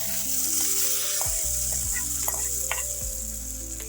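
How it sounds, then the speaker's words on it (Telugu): Hot tempering poured into tomato and green chili dal hisses in a steady bright sizzle, with a few clinks and stirring knocks, close and alone. "పోపు రెడీ అయింది. ఇందులో వేసేసుకున్నాం."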